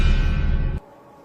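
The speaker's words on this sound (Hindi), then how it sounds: "ये पानी गिरने की आवाज" Falling water gives a loud, close, steady broadband splash that lasts under a second and then stops abruptly, leaving near silence.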